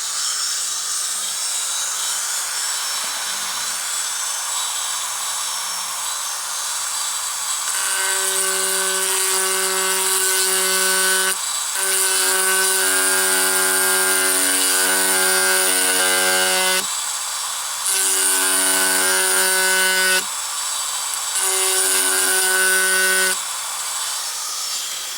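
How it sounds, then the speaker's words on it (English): A Dremel rotary tool runs at low speed on a 1981 Midway Galaga arcade circuit board, whining loudly and steadily in several bursts that rise and cut out in turn. "Dremel set on low."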